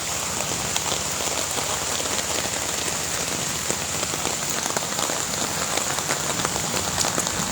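Heavy morning rain pours steadily onto a flooded road, a dense, loud, unbroken hiss of drops with scattered sharper patters throughout, no voices.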